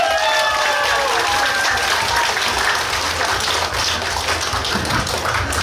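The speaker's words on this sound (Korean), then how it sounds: "여러분 큰 박수로 한번 맞이해 주시기 바랍니다" A crowd at an outdoor street performance claps loudly and densely to welcome a singer, a thick continuous wash of applause with music fading out beneath it.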